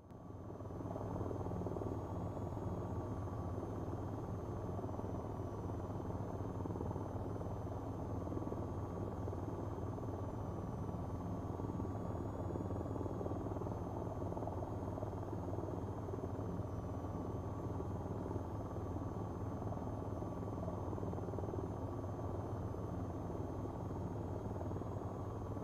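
A helicopter in the video game VTOL VR drones steadily throughout, a dense, constant rotor and engine roar with a low rumble and faint high whine, unbroken and close.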